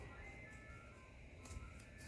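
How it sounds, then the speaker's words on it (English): A faint, tinkling ice cream truck jingle drifts in from a distance over low rumbling background noise. "I think I hear an ice cream truck."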